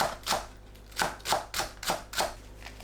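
A kitchen knife chops green onion on a cutting board, about eight crisp, evenly spaced knocks at close range with no talk.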